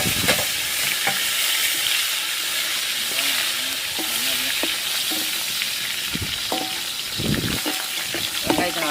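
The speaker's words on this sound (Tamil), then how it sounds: "நெக்ஸ்ட்டு அரிஞ்சு வச்ச சின்ன வெங்காயத்தை கொட்டிக்கலாம்" Chopped shallots sizzling in hot oil with cinnamon and fennel for a quail gravy, a loud continuous frying hiss with scraping stirring sounds throughout.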